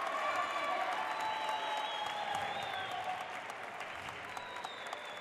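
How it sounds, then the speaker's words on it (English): Crowd cheering and applause at a professional racquetball singles final in Bolivia, a steady dense roar of clapping and cheers that holds loud throughout and eases slightly toward the end. "Finally, some cheering from the crowd."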